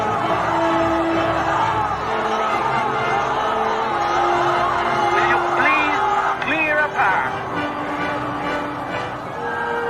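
Dense crowd noise in a 1986 Malacañang political drama scene, many voices shouting and calling at once, loud and continuous throughout, with scattered yells rising above the steady roar.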